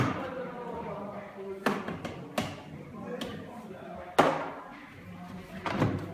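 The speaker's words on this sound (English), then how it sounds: "Then close the door." Washing machine door being closed, a few sharp thuds and knocks at irregular intervals, close, with a person talking throughout.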